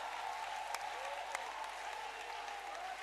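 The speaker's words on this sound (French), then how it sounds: "Applaudissez pour le Seigneur." Church congregation applauding during a Wednesday worship service, a continuous dense wash of clapping at steady loudness with no voices standing out.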